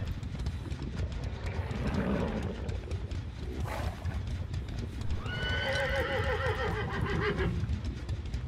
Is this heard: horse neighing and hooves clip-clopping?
yes